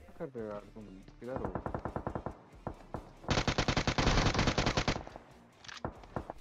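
Rapid automatic gunfire from the mobile battle royale game PUBG Mobile comes in repeated bursts, including a long, loud volley mid-clip followed by a few scattered shots.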